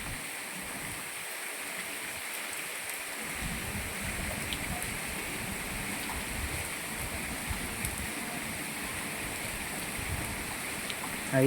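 Rain falling steadily in Moti Gop, Gujarat, a continuous even hiss of drops with no break, holding at a constant level and swelling slightly at the very end.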